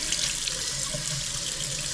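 A water tap runs steadily into an apartment sink as the face is wetted before shaving, a continuous close splashing rush with no voices.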